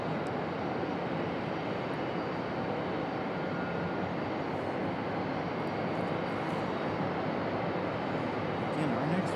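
A steady, loud aircraft engine roar, consistent with an airliner arriving at Raleigh-Durham International Airport, holds broadband and unbroken for the whole stretch with no clear rise or fall.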